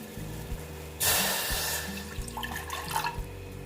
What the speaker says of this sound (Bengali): এখন এখানে আমি জল দিয়ে দিচ্ছি দেখো